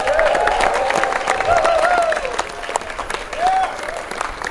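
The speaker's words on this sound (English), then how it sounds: "Big cheer for everyone involved once again." A live audience at a magic show applauds and cheers loudly, dense clapping continuing throughout, with whoops and shouts rising above it.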